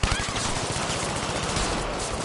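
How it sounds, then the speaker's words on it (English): A Thompson submachine gun fires rapidly in a video game, a dense, loud, continuous burst of automatic gunfire that runs without a break. "H&R is using the rapid fire Thompson right there"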